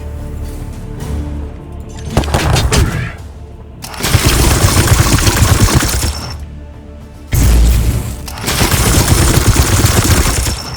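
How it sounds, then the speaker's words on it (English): Gunfire at a Plague Bearer in the video game Warhammer 40K: Chaos Gate, loud bursts of rapid shots and crackling impacts in three heavy volleys separated by brief quieter gaps, with no talking. "I'm just gonna shoot the Plague Bearer"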